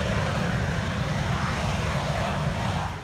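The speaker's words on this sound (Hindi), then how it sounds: "इस कार में यूरोफाइटर टाइफून जेट का इंजन लगाया गया है" A car fitted with a Eurofighter Typhoon jet engine and a Jaguar V8 gives a loud, continuous jet-like roar that holds steady, then starts to fade at the end.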